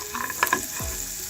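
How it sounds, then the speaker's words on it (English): Garlic butter shrimp sizzle steadily in a hot pan, a close, even frying hiss with a few brief stirring clicks and no voices. "coming along with that garlic butter, that's sizzling"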